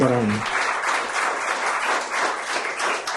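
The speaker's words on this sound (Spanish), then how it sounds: "Un aplauso" An audience at an anniversary event applauds a newly appointed president, giving dense, sustained clapping across the whole stretch, with a brief voice at the very start.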